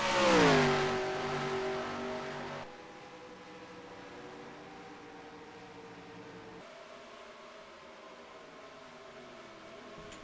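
Race car engines in NASCAR Racing 2003, a loud rising engine whine at first that fades into a steady, distant droning hum of several cars.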